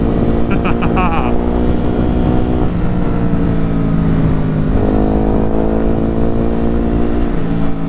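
Ducati Hypermotard 950 SP motorcycle ridden on a road, its engine a steady loud drone throughout with wind noise and a brief rise in pitch partway through.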